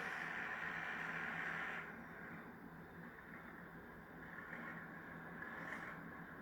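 A model Class 37 diesel locomotive's engine sound drones steadily, revs up briefly, then settles to a lower, even hum with slight rises, close and continuous.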